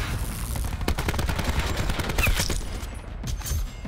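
Shotgun blasts ring out again and again in a first-person shooter match, loud and close, overlapping with other rapid gunfire in a dense, continuous burst of shots.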